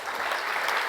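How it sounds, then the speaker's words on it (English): Conference audience applauding after a plenary talk on climate change and health, dense and steady clapping throughout, fairly loud, with no pauses and no speech. "Round of applause."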